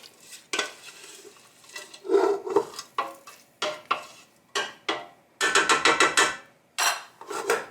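Sauerkraut stirred in a pot for a Christmas dinner, a spoon scraping and clattering in irregular bursts, some quick repeated strokes, close and alone without talk.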